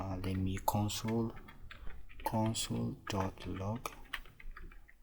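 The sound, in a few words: typing code on a computer keyboard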